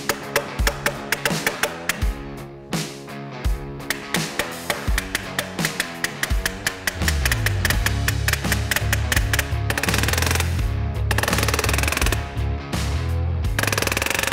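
A mallet or installation tool taps bulb seal onto a polycarbonate windshield on a 2024 Polaris RZR, giving a fast series of sharp, close knocks. A denser, steadier clatter follows.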